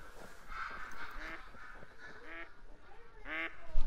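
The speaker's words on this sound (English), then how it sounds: "And here we have some more ducks coming in." Ducks flying in to land during a hunt call out in repeated quacks and honks, several nasal bursts scattered across the clip with a loud cluster near the end, over faint outdoor background noise.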